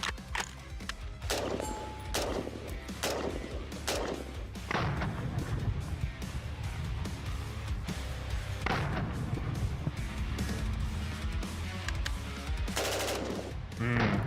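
Full-auto gunfire plays back from a video, with rapid bursts of shots and thumps that repeat across the stretch. Dense, mixed background sound runs underneath.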